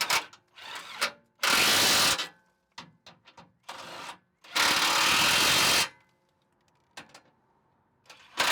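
A ratchet tightens a bolt on a Jeep JK Westin oil pan skid plate in quick clicking runs, interspersed with longer loud bursts of a power tool, close up and with no talking.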